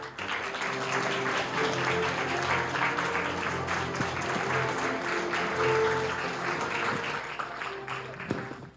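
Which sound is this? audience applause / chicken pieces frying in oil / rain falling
audience applause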